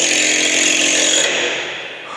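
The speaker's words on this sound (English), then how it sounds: "Sounds to me like Eric's trying to drill something again." A power drill whines at a steady high pitch close by, running continuously before spinning down and fading in the last second.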